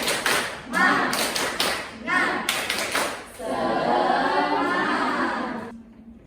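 Students in a classroom perform a rhythmic clapping chant, groups of sharp claps in patterned bursts alternating with the children calling out together, ending in a longer sung shout.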